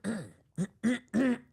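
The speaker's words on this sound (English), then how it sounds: "clearing my throat" A man clears his throat several times in quick succession, four short raspy bursts close to the listener, with no talking.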